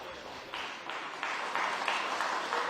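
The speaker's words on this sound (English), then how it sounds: "Gets a round of applause from the Gateshead faithful who have the effort to come tonight." A crowd of Gateshead home supporters at a floodlit evening football cup match claps for a substitute coming on, scattered applause that swells in steps and stays moderate and somewhat distant.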